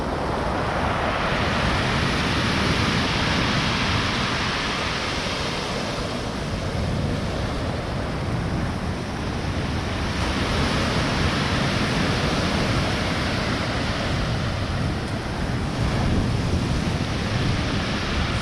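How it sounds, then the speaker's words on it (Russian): Huge stormy sea waves at Pitsunda roar continuously, a loud broadband crash and surge with wind buffeting the microphone, swelling and easing in long cycles with no voices. "Волны просто огромные."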